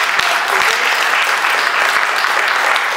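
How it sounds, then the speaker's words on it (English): Sustained applause from an auditorium audience at a student forum, a dense even wash of many hands clapping steadily throughout, with a few louder claps standing out close by. "Round of applause for our guests."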